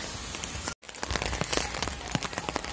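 Steady rain patters on surfaces around a resort at Patratu Valley, a dense close hiss of drops with a brief dropout near the start.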